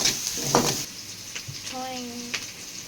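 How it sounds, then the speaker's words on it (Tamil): Onions sauté in a pan, giving a faint sizzle with a few scrapes and clatters from stirring, while a brief voice-like tonal sound rises near the end. "வெங்காயம் வதக்கிட்டுருக்கோன்னா இதுக்கப்புறம் தான் போய் தக்காளி அடிப்பேன்"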